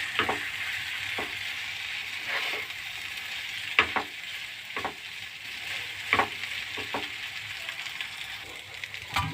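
Flattened rice (atukulu) frying in a pan gives a steady soft sizzle, broken by repeated scraping clicks from a spoon stirring it slowly, up close with no talk.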